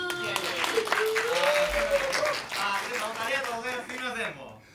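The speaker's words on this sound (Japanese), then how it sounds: "頑張りましょうよ。 拍手。" Audience applause rolls through a hall at a manzai comedy show, a dense patter of many hands with voices speaking over it, fading out near the end.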